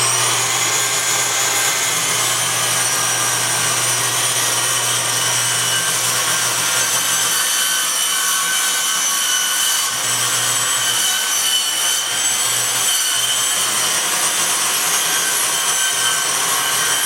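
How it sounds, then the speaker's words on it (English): A Ryobi circular saw cuts through a wooden board for a shed ramp, running loud and steady for the whole stretch, its high whine holding constant with a low hum beneath and slight shifts as the blade follows the line. "Just using the trusty old Ryobi circular saw."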